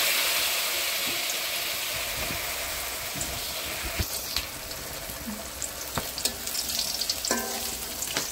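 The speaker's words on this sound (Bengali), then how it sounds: "পুঁই পাতার বড়া ভাজা হচ্ছে।" Large Malabar spinach (pui) leaf fritters frying in hot oil beside a pot of winter vegetable khichuri, a steady close sizzle and crackle with occasional clinks and stirring bumps, no talk.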